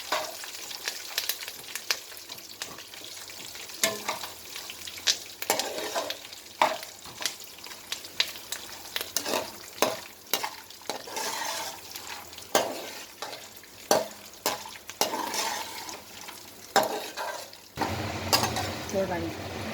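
Curry leaves crackle in hot oil as they crisp for atukula mixture, a close, busy sizzle with repeated stirring scrapes and clinks against the pan throughout, and a voice talking at times.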